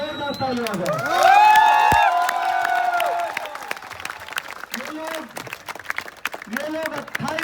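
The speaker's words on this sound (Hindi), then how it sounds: "हमारे वॉलंटियर्स के लिए एक बार जोरदार ताली आ जाए।" A rally crowd claps and cheers for volunteers, with loud shouts and voices rising over the applause before it thins into scattered clapping and chatter.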